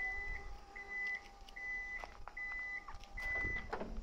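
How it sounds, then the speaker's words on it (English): Parking sensor on a 2012 Toyota Alphard SR-C 2.4 hybrid 4WD beeps in five evenly spaced, steady tones, close and clear over a low background hum. "it has all-round parking sensors"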